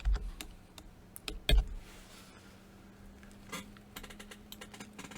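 Keys clack on a computer keyboard, a few sharp taps early on followed by scattered lighter keystrokes over a faint steady hum, close to the microphone, with no talking.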